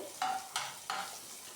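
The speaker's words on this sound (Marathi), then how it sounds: "आता यामध्ये आपण कापलेला कांदा घालायचा आहे आणि परतून घ्यायचा आहे।" Chopped onion sizzles gently in a pan on medium heat while a spoon scrapes and stirs it in three quick strokes, close and fairly quiet.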